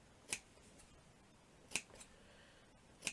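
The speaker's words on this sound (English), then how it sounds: "What I'm going to do is just do thin snips." Scissors make three thin, crisp snips on flower stems, evenly spaced and close by in a quiet room, with no talking.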